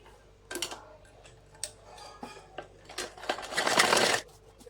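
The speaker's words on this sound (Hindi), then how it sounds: "अभी इसकी एक पैर की सिलाई लगा के दिखाती हूँ मैं कैसे लगती है।" Sewing machine stitching the leg seam of a salwar, a quiet irregular run of mechanical ticking and clatter that builds into a louder, denser whirring burst near the end.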